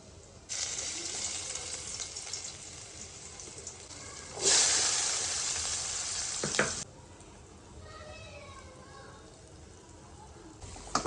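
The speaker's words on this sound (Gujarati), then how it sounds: "આ બટેકાનો સૂંદો વઘારવાનો છે ને એમાં નાખવાનું છે" Mashed potato filling for a homemade frankie is dropped into hot tempering oil and sizzles loudly. The sizzle surges sharply midway, then settles into a steady, quieter crackle.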